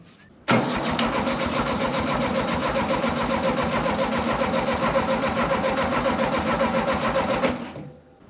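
A VW dune buggy engine cranked by a clip-on starter button, turning over with a steady rapid chugging for about seven seconds, close and loud, then winding down without catching.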